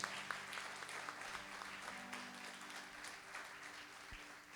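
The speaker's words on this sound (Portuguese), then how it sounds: "Então aplauda a Jesus" A church congregation claps steadily, dense applause filling the space at moderate distance, fairly faint overall with no clear voices.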